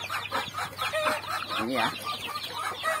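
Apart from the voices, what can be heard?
10-day-old chicks with mother hen clucking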